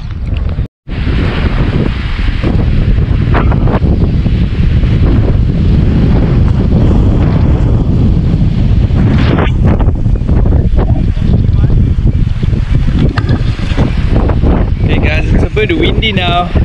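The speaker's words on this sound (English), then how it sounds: "Windy now, it's about 50 knots of wind" Strong wind of about 50 knots roars and buffets a microphone nonstop at a riverside camp, a loud, rough rumble with gusts and a brief cutout near the start.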